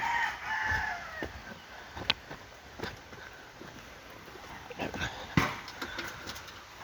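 Chickens cluck and a rooster crows amid scattered sharp knocks and rustling, with birds calling intermittently at moderate distance.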